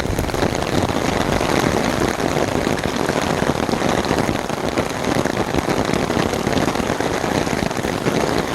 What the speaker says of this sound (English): let the sound of the rain carry us the rest of the walk